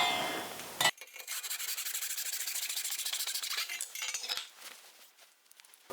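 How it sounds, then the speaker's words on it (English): A hand saw cuts a 45-degree miter across a wooden board, a quick rasping burst of close, rhythmic strokes that slows and fades out near the end. "I'm going to cut a 45-degree angle on this board"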